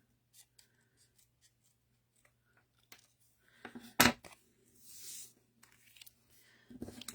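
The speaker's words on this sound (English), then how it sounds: "I'm just going to trim around that circle. With my snips." Snips make small, sparse snipping clicks while cutting paper around a circle, with a sharper crunch and rustle midway, quiet and close in a still room.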